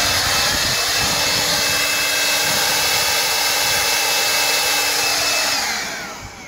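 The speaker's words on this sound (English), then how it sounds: "And this is what this blower will do." A Makita 36-volt cordless leaf blower, powered by two 18-volt batteries, runs at a loud steady roar with a fan whine, then winds down near the end.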